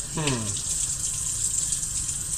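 A kitchen tap runs steadily into a sink while dishes are washed, a constant close hiss of flowing water with a brief clink near the start.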